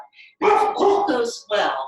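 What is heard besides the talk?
dog barking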